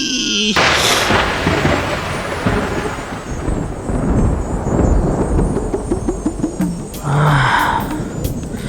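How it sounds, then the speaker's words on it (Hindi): A loud crack of thunder in a dramatic Hindi TV serial, a heavy sustained rumble rolling through the scene with swelling booms and a brief tonal sting near the end. "बिजली कड़की है"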